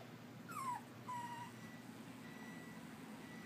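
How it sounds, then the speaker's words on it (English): A three-month-old puppy that got out of its cage gives two high, thin whimpering whines close by, the first sliding downward, then falls quiet over a faint steady room hum. "this dog got out of the cage"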